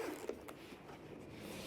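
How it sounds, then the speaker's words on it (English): A zipper on a camera bag is drawn shut in one short, fairly quiet pull, with a soft rasp over steady low background noise. "zip it back up"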